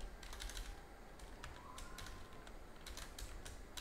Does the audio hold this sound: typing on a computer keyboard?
yes